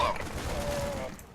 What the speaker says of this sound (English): So let's walk up and start shooting.